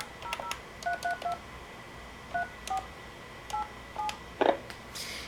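Telephone touch-tone keypad dialing a number, a series of about ten short, evenly spaced DTMF beeps in quick groups, clear and close with no talking.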